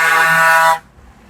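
A single loud car horn blast from a manual car during a driving lesson, held for under a second, then cut off abruptly into near silence.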